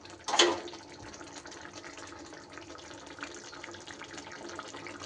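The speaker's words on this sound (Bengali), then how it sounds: "আর সামান্য একটু জল আমি দিয়ে দেব।" Room-temperature water is poured from a small bowl into a pot of simmering pointed gourd curry, starting with a brief splash and settling into a steady, soft gushing trickle that continues throughout, close and fairly quiet.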